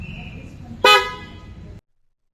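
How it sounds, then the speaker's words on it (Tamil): A single short blast from a newly fitted dual car horn, bright and loud, lasting about a second over a faint low engine rumble, then silence. "புது ஹாரன் இப்போ ட்ரை பண்ணி பார்க்கலாம்"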